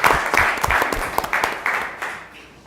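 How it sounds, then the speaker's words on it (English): Applause for a commissioner at a Hidalgo city commission meeting: a modest group claps in scattered, separate claps that gradually thin out and fade. "Let's give a round of applause to our commissioner, Eddie Cantu."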